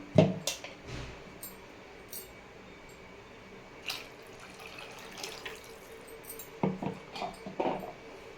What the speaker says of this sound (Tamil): இப்போ இது கூட தேவையான அளவுக்கு தண்ணி சேர்த்துக்கலாம்.